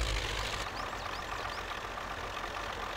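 A tractor engine idles steadily in the off-road driving game Spintires, a continuous low mechanical rumble with no talk, with a few faint high chirps over it.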